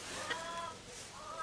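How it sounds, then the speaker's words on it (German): Backyard hens clucking faintly around someone's feet on a frosty day, soft scattered clucks at a distance over a quiet outdoor background with no talking. "ich muss aufpassen auf meine Hühner, die laufen mir vor die Füße"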